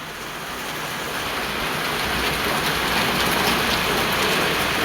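Heavy rain pours down outside as a dense, continuous hiss of drops striking surfaces, building slightly in loudness over the few seconds, with no voices.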